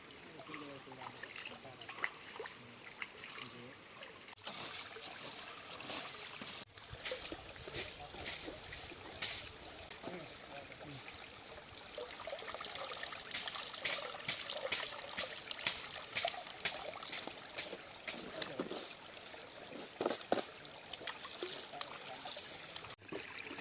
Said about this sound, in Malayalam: അരി കഴുകിയെടുക്കാം.